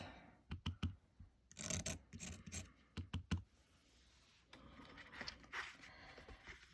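Soft pastel is scraped off the stick in short, quiet bursts of dry scratching, several quick strokes in a row and then a longer, softer stretch of rubbing, close and faint with no talk.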